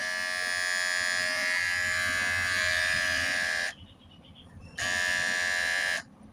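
Cordless electric hair clipper buzzes steadily up close, switches off briefly, then buzzes again before stopping.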